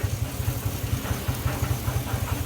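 A GMC Sierra truck engine idles with a steady, rapid knocking from the bottom end, a regular low thumping pulse repeating close up with no voices.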